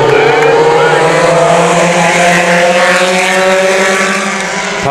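Several mini stock race cars roaring around a dirt oval at Havasu 95 Speedway, loud layered engine drones rising and falling in pitch as the pack passes close, steady and overpowering throughout.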